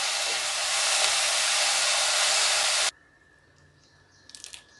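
Finger millet batter and greens sautéing in a pan make a loud, steady hiss that cuts off abruptly partway through, leaving a quiet background with a faint tone and a few small clinks near the end.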